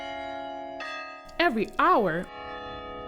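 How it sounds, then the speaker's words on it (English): Concordia College campus bells ring with a sustained, resonant tone that holds throughout. A voice briefly speaks over the ringing. "at Concordia College, you can hear the bells ringing"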